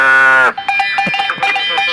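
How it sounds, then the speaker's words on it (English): A cow moo sound effect plays on a radio show: one loud, drawn-out bovine low that breaks off into clanking cowbell-like clatter, with no talk over it. "give me one more animal, one more cow as we leave."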